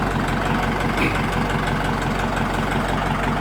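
A Kubota L5018 tractor engine running steadily during a fuel system test, a loud, even idling rumble close by with no talk.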